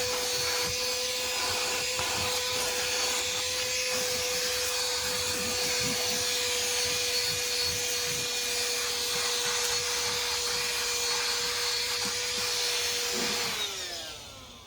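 A compact 8000Pa handheld vacuum cleaner runs at steady high power for about thirteen seconds with a constant whine and airflow roar, then winds down briefly at the end, with no talking.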